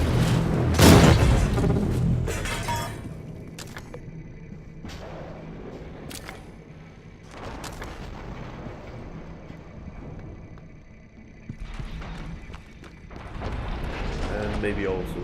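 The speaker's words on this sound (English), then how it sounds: "Maybe I can throw some recycled grenades here." Recycled grenades thrown in the video game Prey go off as deep, rumbling booms, one loud blast near the start and more later, spread over a low droning background while a player talks.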